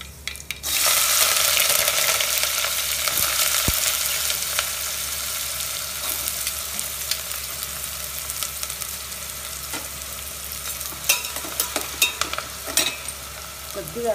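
Onions sizzle loudly in hot oil for sambar, a dense, continuous frying hiss that is close and steady, with occasional stirring scrapes and small clinks and no talking.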